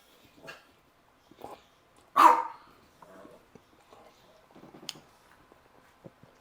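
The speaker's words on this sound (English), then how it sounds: "My doggies, Alex and Oliver, they're looking for some grilled cheese." Two dogs waiting by a Blackstone griddle give one short, sharp bark amid soft whimpers, yips and scattered faint movement sounds, mostly quiet and close by.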